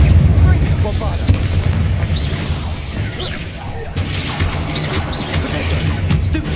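Bombarda explosion spells in Hogwarts Legacy go off as heavy booming blasts with crashing debris and swooshing magic, loud and sustained, while a voice shouts spell names over the combat.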